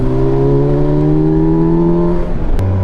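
A Kawasaki Versys 1000 SE motorcycle engine revs in second gear with a loud, steady tone rising gradually, then drops off as the throttle closes and shifts to a lower note.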